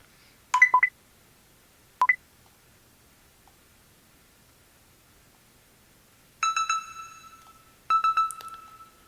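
A Casio G-Shock GBA-900 digital watch gives short electronic beeps: two quick chirps, a single one, then two longer beep sequences later, all crisp and close against near silence.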